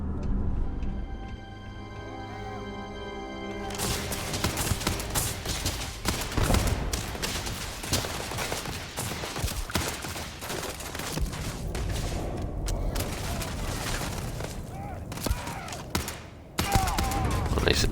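Single-fire gunshots in the space game Starfield, set in underground mines: a sharp report cuts in after a few seconds of quiet tones, then dense, loud firing and impacts carry on to the end.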